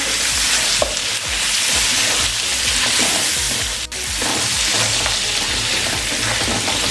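Chicken korma masala fried with salt in a pan, a loud, close, continuous sizzle with busy stirring scrapes and a brief dip partway through.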